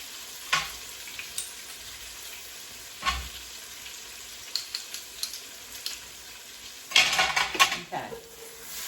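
Fresh garlic cloves frying in a pan for a creamy chicken pasta, giving a soft background sizzle with scattered clinks of utensils and a busier burst of stirring and pan scraping near the end.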